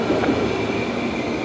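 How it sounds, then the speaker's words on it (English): Brisbane Airport air train departing: a loud, continuous rail rumble with rolling wheel noise and a faint high whine, close by and steady throughout the short stretch, with no voices. "Should we get that air train departure?"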